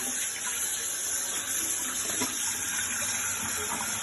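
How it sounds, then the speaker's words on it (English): Water runs from a wok tap at a kitchen wok station in one steady, continuous close stream, fairly loud and unbroken, with no one speaking. "We're just gonna turn on our wok tap."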